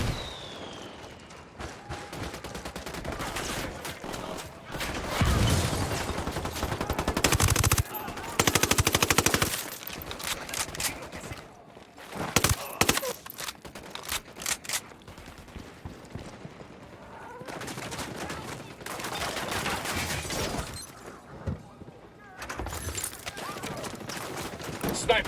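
Heavy automatic gunfire in the video game Ghost Recon Wildlands, with loud sustained bursts broken by short pauses, scattered single shots and thuds, and faint voices in between.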